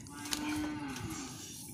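A goat in a farm pen, with pregnant goats kept nearby, gives a single drawn-out, wavering bleat of about a second. It sounds moderately close over soft background noise.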